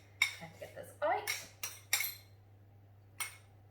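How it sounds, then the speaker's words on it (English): Metal knife grabbed from a cutlery drawer while baking a lemon drizzle cake, giving several sharp clinks and rattles in a quick cluster, then one more clink after a short pause; close and fairly quiet, no talking. "a knife would have been helpful, so I'm just going to go grab that"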